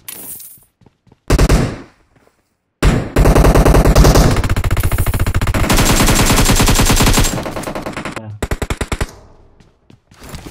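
Loud automatic gunfire in PUBG Mobile on the Livik map: short bursts, then a long sustained rapid volley, ending in separate sharp single shots.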